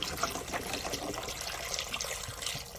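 Chicken broth poured into a soup pot, a soft continuous splashing trickle heard close but quiet for a few seconds.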